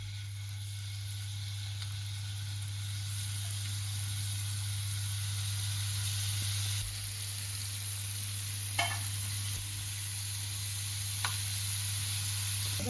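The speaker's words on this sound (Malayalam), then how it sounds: "ആ ബട്ടർ മെൽറ്റായിട്ട് വരുമ്പോൾ അതിലേക്ക് ചിക്കൻ ചേർത്ത് കൊടുക്കണം." Chicken frying in melted butter in a pan, giving a steady, loud, continuous sizzle with a low hum underneath and a couple of faint clinks from stirring.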